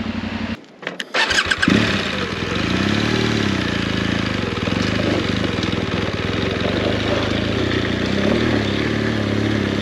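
An off-road motorcycle on a rough Moroccan trail revs loudly nearby and steadily as it is ridden over an obstacle, its engine note rising and straining, with a brief sputter near the start.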